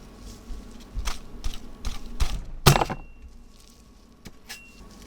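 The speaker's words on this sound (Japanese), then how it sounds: "スクレーパーを境目に当てて叩くと取れやすいです。" A scraper is tapped at the seam between a water-washable resin 3D print and the build plate of an ELEGOO Mars 5 Ultra printer, giving a few sharp clicks and one louder crack near the middle, with quiet gaps in between.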